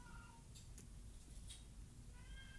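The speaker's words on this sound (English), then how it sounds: "that's a cat trying to get in." A cat meows faintly in a few short calls as it tries to get in, over a quiet, hissy background.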